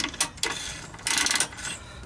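A hand ratchet clicks in short bursts while working a bolt on a rear shock absorber of a Jeep Wrangler JKU, close and fairly quiet, with several quick ratcheting strokes separated by pauses.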